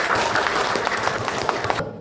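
Classroom applause from a group of students, dense and steady for nearly two seconds before stopping abruptly, with scattered louder claps.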